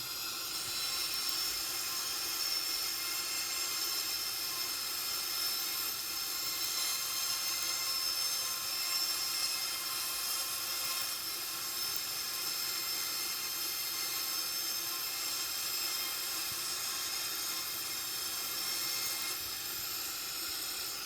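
A steady, droning Boeing 737NGX jet engine roar in a flight simulator game, with hiss, runs unbroken and fairly loud throughout, with no talking.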